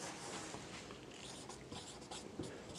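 Pen on paper scratches quietly and close during a class 10 maths lesson on curved surface area, in short irregular strokes against low room noise, with no talking.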